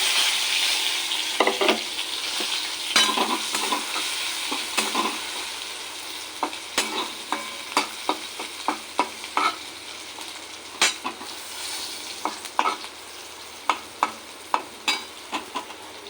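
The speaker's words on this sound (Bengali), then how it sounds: "পাঁচফোড়ন রাঁধুনি শুকনো লঙ্কা তেজপাতা আর আদা এটা ফোড়ন দিয়ে দেবো" Whole spices—five-spice, dried red chillies, bay leaf and ginger—sizzle steadily in hot oil for a Bengali mung dal, with repeated sharp scraping stirs of a spoon against the pan growing more frequent toward the end; no talking.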